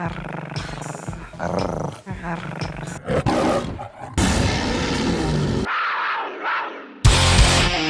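A woman growls and roars in imitation of a tiger, loud raspy bursts in quick succession mixed with edited speech and abrupt cuts, close and harsh.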